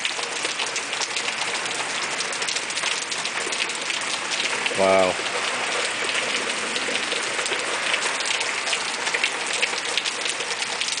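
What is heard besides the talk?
heavy rain pouring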